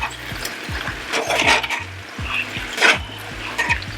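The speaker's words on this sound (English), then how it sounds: "scoop in your rice to try and fry that" Cooled cooked rice being fried and stirred in a pan, a spoon or spatula scraping and knocking against the pan in quick irregular strokes over a continuous sizzle, close and fairly loud, with no voices.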